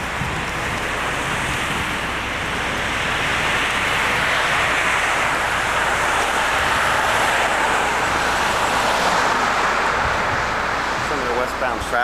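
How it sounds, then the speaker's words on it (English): Road traffic passing by a mall in Ledgewood, New Jersey: a steady wash of tyre and engine noise from passing cars, continuous and moderately loud, with wind rumble on the microphone. "Traffic."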